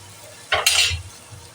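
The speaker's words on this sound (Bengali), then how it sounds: "এটাতে একটু জল ব্যবহার করে আমি ভালো করে নাড়াচাড়া করে দিলাম" Chicken butter masala with a little water being stirred in a pan, a short burst of scraping and sizzle in the middle of a brief, quiet stretch, close and fairly loud.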